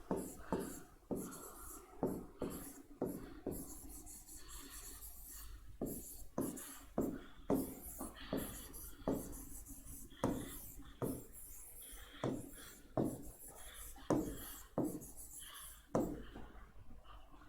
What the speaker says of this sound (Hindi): लिखेंगे डिफिनेशन।